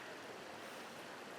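Small woodland stream with little waterfalls, a steady, broad rush of running water close by, continuous and even throughout, with no voices.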